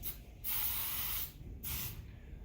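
Two bursts of high-heat headliner fabric spray glue hissing from an aerosol can, a long one followed by a shorter one, close to the microphone with a quiet pause between.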